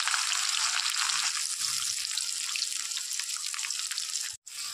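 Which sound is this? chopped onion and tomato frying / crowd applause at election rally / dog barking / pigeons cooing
chopped onion and tomato frying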